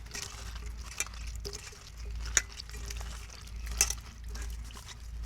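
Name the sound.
washing cauliflower with water 2-3 times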